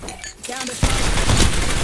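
Gunfire in the video game Apex Legends, a loud burst of shots breaking in and continuing steadily over dense game noise after a brief quieter stretch.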